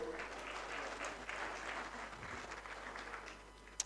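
Audience applause for Senator Dr. Rasha Keleji at a Merck Foundation Africa Asia Luminary event, a fairly soft, even patter of many hands that fades slightly near the end.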